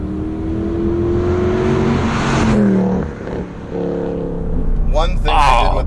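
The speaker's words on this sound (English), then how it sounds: "I'm so jealous of your engine sound." A Mercedes C63 AMG (W204) engine with a secondary cat delete revs loudly up close, its pitch climbing and falling between throttle blips, while people talk over it.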